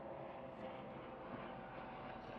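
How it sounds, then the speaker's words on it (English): A helicopter passes overhead, a faint, steady low rotor drone heard indoors from a distance with no clear rise or fall. "a helicopter."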